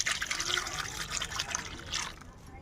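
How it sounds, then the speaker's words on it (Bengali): Water pours and trickles over grated papaya in a kitchen while it is being washed, a quiet, continuous splashing that fades slightly toward the end. "গ্রেট করা পেঁপেটাও আমি একটু ধুয়ে নেব, জল দিয়ে দেব।"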